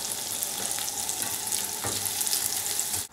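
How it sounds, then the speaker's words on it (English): Chorizo sizzles in a splash of hot oil in a frying pan, a steady close crackle and hiss with a few stirring scrapes, ending abruptly. "Heat a splash of oil in a frying pan and then add your chorizo."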